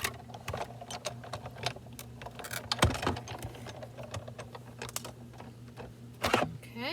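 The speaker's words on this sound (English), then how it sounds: "And I'm going to die cut that." A die-cutting machine presses a foam pocket shape, giving a run of quiet, rapid clicks and ticks with a few louder knocks, steady against a low background hum.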